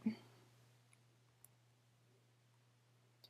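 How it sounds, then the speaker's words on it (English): A computer mouse clicks to select a checkbox: one crisp click at the start, then a few faint ticks spaced apart in a quiet room over a low steady hum. "I'm going to select the student by clicking the box next to their name"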